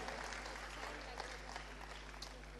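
Applause from an audience at a live mentalist show during a Gujarati diaspora festival, a dense wash of clapping over a steady low hum, with voices mixed in.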